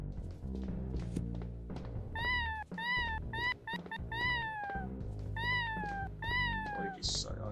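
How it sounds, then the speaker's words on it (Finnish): A cat gives a series of drawn-out meows, several spaced cries one after another over steady background sound, loud and close. "Toi kissa ei ainakaan hauku."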